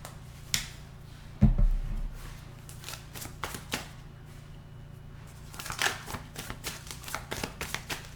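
Tarot cards shuffled by hand in short papery bursts, with a sharper riffle and thump near the start and softer flicks and slides continuing throughout, close and fairly quiet, with no talk.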